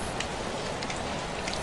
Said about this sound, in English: Glances toward the rain on the window.